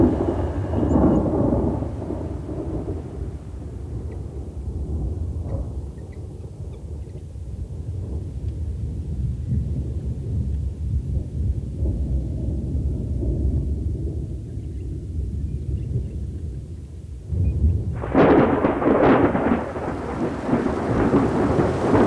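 Monsoonal summer rain falls heavily in an Australian thunderstorm, with low rumbling thunder rolling under a steady downpour and a louder, brighter burst of rain and storm noise near the end. No one speaks.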